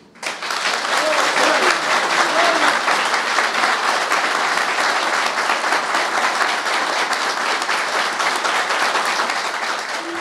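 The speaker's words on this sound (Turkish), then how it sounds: "Bu açıklamaların ardından salonda tezahüratlar yükseldi." Sustained crowd applause fills a hall after a mayoral candidate's press statement in Isparta, loud dense clapping holding steady for around ten seconds.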